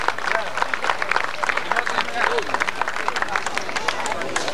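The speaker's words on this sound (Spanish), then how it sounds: "fuerte el aplauso" Applause for the best ride at a gaucho rodeo festival, a steady patter of clapping from the crowd while people talk over it.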